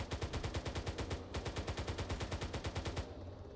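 Rapid automatic gunfire in an aerial combat video game, a long fast burst of evenly spaced shots that cuts off abruptly near the end, loud and close with no talk over it.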